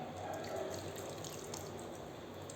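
Tamarind water pours into a pot of dry fish curry as a soft, steady liquid trickle, faint and close, with no talking.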